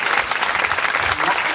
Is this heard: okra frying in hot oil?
no